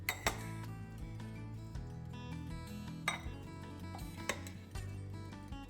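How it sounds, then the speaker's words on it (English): A black bean, avocado and corn salad with cilantro is mixed in a bowl: a utensil clinks and scrapes against the dish in soft, irregular taps, faint beneath steady background music. "Now give everything a good mix."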